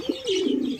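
A single soft, low pigeon coo sounds nearby, brief and rolling.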